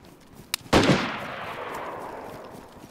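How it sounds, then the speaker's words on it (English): A single loud gunshot in DayZ, preceded by a brief sharp click, with a long rolling echo that fades slowly across the following seconds. "They just shot auto."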